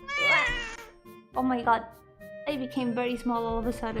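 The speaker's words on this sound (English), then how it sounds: "That was a cat" A cat meows repeatedly in a close, high-pitched series, mixed in with a person talking.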